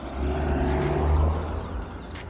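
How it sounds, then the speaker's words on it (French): A car passing along a street, a steady close engine rumble that swells and fades slightly over a couple of seconds. "Non, on ne traverse pas alors qu'il y a des voitures."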